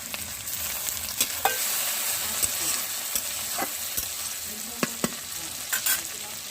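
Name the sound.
chopped tomatoes frying and being stirred in pan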